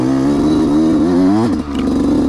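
A motocross dirt bike on a slippery dirt track revs hard and close, its engine pitch climbing and wavering, then dropping sharply before picking up again.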